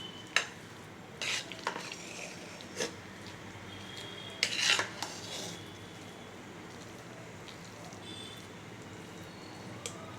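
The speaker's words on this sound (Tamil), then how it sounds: "லாஸ்ட்டாக முந்திரி வறுத்து உள்ளே போட்டுடலாம்." Cashews roasting in a pan for pepper pongal, a faint, steady sizzle with a few soft scraping stirs and light clinks of a spoon against the pan, no talking.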